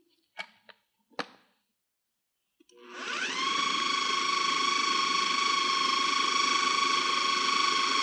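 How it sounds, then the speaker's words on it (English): A food processor blends tomatillos for guacamole in a home kitchen: a few sharp clicks and knocks, then the motor spins up into a loud, steady, high whirring whine that holds without a break to the end. "because the food processor is really cranking it away."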